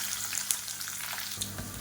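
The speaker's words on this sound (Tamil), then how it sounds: "எண்ணெய் சூடானதும் ஒரு டீஸ்பூன் கடுகு ஒரு டீஸ்பூன் உளுந்து" Steady crackling sizzle of mustard seeds and urad dal frying in hot oil, with small pops and a faint stir, close and continuous with no talking.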